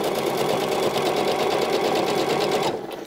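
Sewing machine stitching the seam of a gathered skirt with a drawstring waistband, a steady close rapid whirring and needle clatter running continuously before slowing and stopping near the end.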